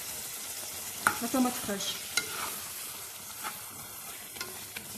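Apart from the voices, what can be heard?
frying and stirring in pan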